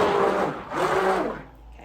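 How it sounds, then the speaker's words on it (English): A stick blender whirs through a batch of goat milk soap, two close motor bursts whose pitch sweeps up and down, with the second fading away before the end. "this stick blender is moving itself to the back room as an emergency blender"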